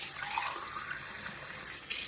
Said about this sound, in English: I like to put hot water into each of my jars